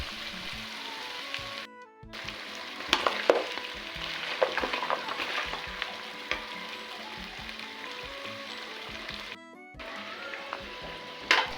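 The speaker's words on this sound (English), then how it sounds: "I add in my cooked beef and fry it together with spices for about 5 minutes." Cooked beef frying with spices in a pot for pilau, a steady close sizzle with occasional scraping stirs and clinks of the spoon running throughout.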